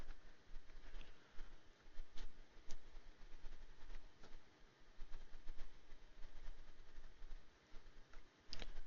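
Trains run on the rails in the railway simulation game OpenTTD, a faint, low rumble scattered with soft ticks and clicks, quiet and unobtrusive throughout.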